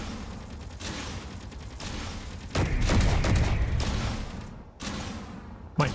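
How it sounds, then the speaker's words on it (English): Rockets fired in the Assertive Combat Systems video game, a series of loud rushing blasts and booming bursts, with a heavier barrage in the middle, a short gap, then a final sharp hit. "now let's see if I can time these rockets better"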